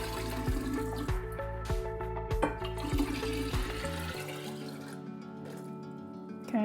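Filtered water pours steadily into containers for kombucha brewing at home, a continuous watery rush with a tonal, filling quality that shifts partway through, no voices.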